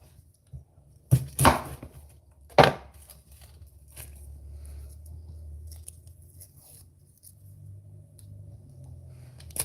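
A knife cuts the ends off an onion on a board with two crisp, close chops about a second apart, followed by quieter rustling and handling of the onion.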